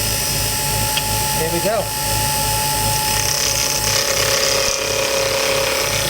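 A wood lathe spins up to turn a pen blank, a steady mechanical whir and hum with a rising whine as it reaches speed; a voice speaks briefly near the start.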